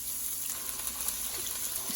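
Diced onion sizzles in two spoons of vegetable oil in a separate pan for a gizzard and plantain stew, a steady close hiss that holds at an even level throughout with no talking.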